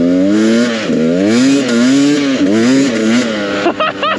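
A motorcycle engine drones steadily at close range with wavering revs, rising and falling in pitch as the bike is ridden, with a brief clattery burst near the end.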